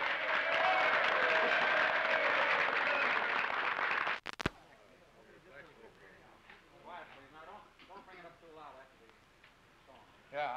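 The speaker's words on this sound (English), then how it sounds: "the crowd sang a little too loud so that you couldn't get the words" A large crowd at a 1931 Republican primary victory rally for a Chicago mayoral candidate, loud massed voices and noise for about four seconds, cut off sharply, followed by someone talking over a quiet background.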